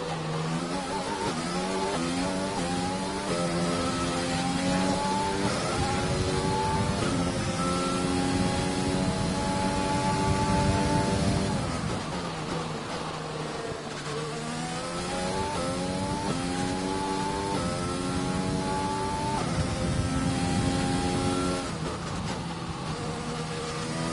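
An F1 car in F1 2020 accelerates out of the pits at the Brazil race, its engine note climbing through repeated upshifts in a loud, close, continuous whine with rising pitch sweeps.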